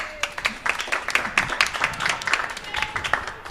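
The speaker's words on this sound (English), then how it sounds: "Let's give him a round of applause" Audience applause greets a presenter coming to the stage at a chat and networking event, a moderate burst of many hands clapping, slightly uneven and fairly close.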